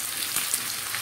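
Onions fry in a pan for a pithukku paruppu kulambu, a brief burst of dense, close hissing sizzle with a couple of soft pops.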